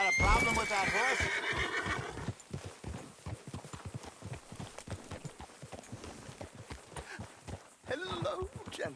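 A horse in Red Dead Redemption 2 gives a loud, close whinny and then walks on with a steady clip-clop of hooves over the ground, with a snort near the end.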